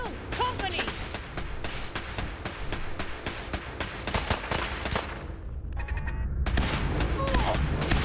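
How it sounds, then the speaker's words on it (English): Gun turrets firing in the video game Fallout 4, a dense rapid rattle of automatic gunfire with sharp impacts, loud and continuous, briefly dropping before resuming, with occasional voices over it. "Oh, they got turrets."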